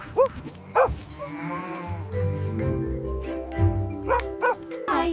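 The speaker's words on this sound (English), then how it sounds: "H is for Highland cattle dog." A Highland cattle dog gives several sharp barks near the start and again toward the end, with lower, drawn-out lowing calls in between.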